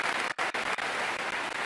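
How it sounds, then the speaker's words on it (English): Short burst of dense, continuous hand clapping, loud and close, lasting under two seconds. "Let's give him a clap on that."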